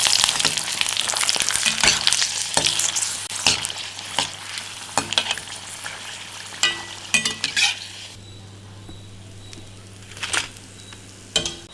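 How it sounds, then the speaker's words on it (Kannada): Buttermilk chillies fry and sizzle in a pan in a home kitchen, with a steady close crackle and scattered pops and stirring clatter, easing to quieter sputters near the end. "ಒಂದು 4 ಮಜ್ಜಿಗೆ ಮೆಣಸಿನ್ಕಾಯಿನ ಕೂಡ ಹುರಿತಾ ಇದ್ದೀನಿ."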